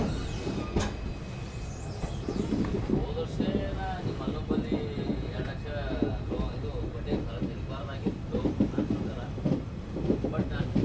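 Inside the Vijayapura–Mangaluru passenger train, the carriage rumbles steadily with rhythmic clickety-clack of wheels over rail joints and wind noise throughout, while someone talks continuously over it.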